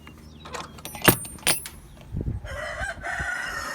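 Backyard chickens cluck and call in short bursts, close and fairly loud, with a sharp crow-like call, scattered clatter and a passing engine-like rumble toward the end.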